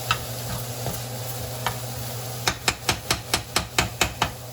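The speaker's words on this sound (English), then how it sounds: "while I'm letting that sizzle." Steady frying hiss of meat sizzling in a pan for spaghetti, joined by a run of sharp, evenly spaced clicks and taps toward the end, with no one speaking.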